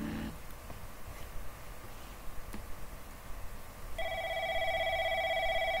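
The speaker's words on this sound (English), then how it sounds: "You hear a phone ring from the distance." Telephone ringing in the video game Elevator Hitch, a steady electronic ring starting partway through over a quiet hum and faint ticks, no talk.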